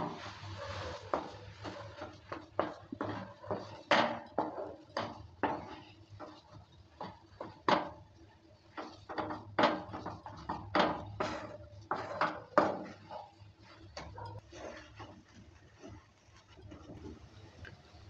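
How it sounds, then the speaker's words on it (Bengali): Spiced bean seed mash with fried chili powder is stirred in a pan, giving repeated close scraping and clinking taps of utensil against cookware in an uneven rhythm, with no voices. "দেওয়ার পর ভালো করে নেড়েচেড়ে নিচ্ছে।"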